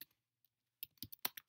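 Short bursts of computer keyboard typing while entering code, a quick cluster of crisp key clicks after a brief near-silent pause, close and fairly quiet.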